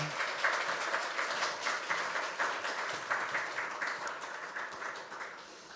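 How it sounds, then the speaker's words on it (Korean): Church congregation applauding to welcome a pastor to the pulpit at a Korean worship service, a steady sustained crowd clapping lasting several seconds. "우리 큰 박수로 환영하도록 하겠습니다"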